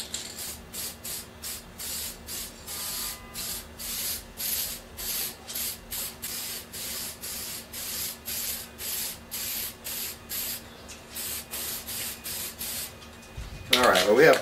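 Spray paint can hissing onto a Chevy big block 454 engine in rapid short repeated bursts, close and steady, ending with a louder clatter.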